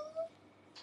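A house cat lets out a single short, faint meow near the start, followed by a soft rustle in an otherwise quiet room.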